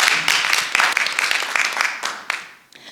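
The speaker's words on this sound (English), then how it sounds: "Let's clap for her, please" Audience clapping for a participant named Michelle at a training session, a ragged burst of claps of uneven strength that thins out toward the end.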